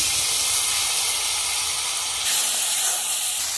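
Ginger-garlic paste, tomato and a water-mixed spice paste hit hot oil in a kadai, giving a loud, close, steady hiss and sizzle that swells briefly partway through, with no talking.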